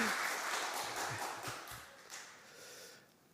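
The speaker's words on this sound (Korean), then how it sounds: "우리 이시영 목사님과 엘피스 우리 좀 잠깐 큰 박수로 한번 격려해 주셨으면 좋겠습니다" A church congregation at a Friday prayer meeting gives a warm round of applause, dense clapping that tapers off over a few seconds.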